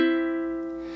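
A single ukulele strum played with the ring, middle and index fingers, one bright chord ringing out alone and slowly fading.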